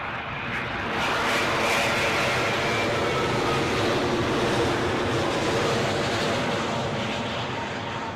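A British Airways Boeing 787 Dreamliner on approach to London Heathrow gives a loud, continuous engine roar with a faint tonal, wind-chime-like whine threaded through it.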